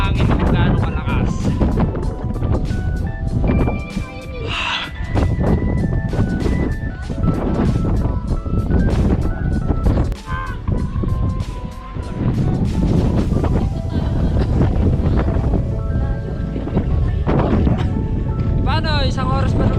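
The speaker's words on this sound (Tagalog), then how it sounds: "Alam ko naririnig nyo yung hangin kung gaano kalakas." Strong, cold wind roars and buffets against the microphone in loud continuous gusts at the Oryukdo Skywalk in South Korea, with people talking intermittently underneath.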